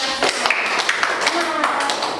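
Students clap in a high-school history classroom, a short scattered burst of hand claps mixed with voices talking over it.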